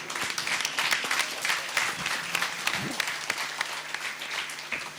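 A standing audience at a Rotary Club of Vellore South installation event claps for the new club president, a sustained roomful of hand claps with a few sharper individual claps standing out, no voices on top.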